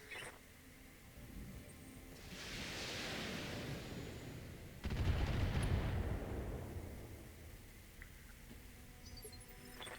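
Mech weapons firing on turrets in the video game Battletech: two heavy, rumbling bursts of weapon fire, the second louder and more explosive, each tailing off into a fading roar.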